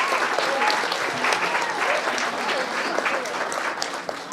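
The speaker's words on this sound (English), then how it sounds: "don't we give a round of applause to all the servicemen and women who are with us here today" Sustained applause from an audience honoring uniformed U.S. servicemen and women at a presidential event, a dense, steady wash of clapping that stays loud and even throughout with a faint crowd murmur beneath.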